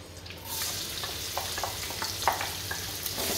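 Onions stir-frying in hot oil with mustard seeds and curry leaves for an Indian coconut fish curry, a steady close sizzle broken by scattered spatula scrapes and pops.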